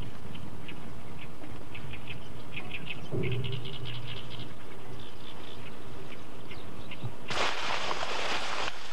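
Migratory and resident birds calling in an open summer plain beside a river, a chorus of short chirps and squawks throughout, joined by a low duck-like honking and a sudden loud rustling burst near the end.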